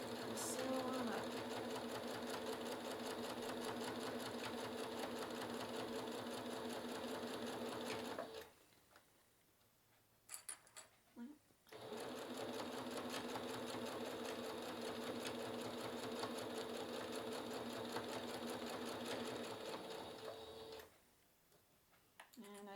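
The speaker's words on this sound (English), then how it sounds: "Reinforce the corner. And sew on up." Sewing machine stitching the corner of a fabric cross-stitch project bag, a rapid mechanical whir running steadily, pausing briefly for a few clicks, then resuming before stopping again.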